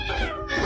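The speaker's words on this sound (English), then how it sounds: "This little kitten." A kitten meows in a short, close, clear cry that swells again toward the end, with no talk over it.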